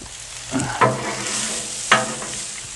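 Onions sizzle on a Blackstone flat-top griddle set to low heat, a steady frying hiss with a few sharp scraping strokes of a spatula standing out near the start and again toward the end.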